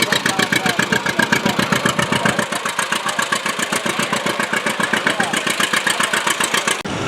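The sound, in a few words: tractor engine running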